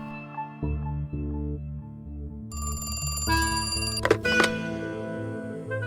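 A telephone rings in The Cat Lady video game, a repeating ringing tone over a low droning musical background, with a louder clattering jolt near the end.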